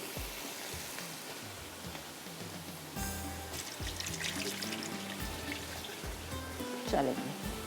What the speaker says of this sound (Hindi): पहले मैं इसका पानी फेंकती हूँ।